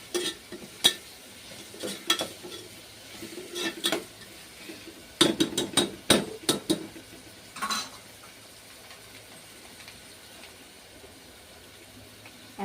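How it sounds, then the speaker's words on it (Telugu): Vegetables are fried in oil for veg biryani and stirred with a utensil, giving a faint, steady sizzle under sharp, irregular clinks and scrapes against the pot that cluster in the middle and then fade to quiet frying. "సో మనం అందుకే కొంచెం అన్నీ ఒకసారి ఆయిల్లో వేసుకొని ఇలా ఫ్రై చేసుకోవాలి."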